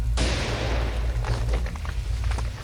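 A deep explosion in an audio drama bursts with a sharp onset and a long rumbling roar, followed by scattered crackling debris over a continuous low boom.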